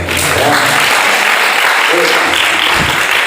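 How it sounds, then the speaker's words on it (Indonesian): A hall full of students at an Islamic boarding school applauds loudly and continuously, a dense wash of clapping with a voice speaking faintly beneath it. "Tepuk tangan dong buat saya."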